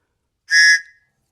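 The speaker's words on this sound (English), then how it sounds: "little survivor whistle that comes on them" One short, shrill blast from a small survivor whistle that comes with a Tops Crowhawk fixed-blade knife, sounded close and loud for about half a second in an otherwise silent moment.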